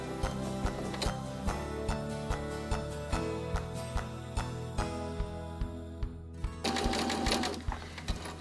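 A sewing machine stitches the inside of a tote bag in a steady mechanical run with a regular thump on each stitch, stops briefly, then whirs on again loud and close.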